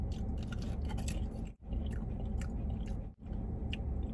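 Crunchy chewing of Wendy's Baconator flavored Pringles potato crisps, close and steady for several seconds with two brief pauses, no talking.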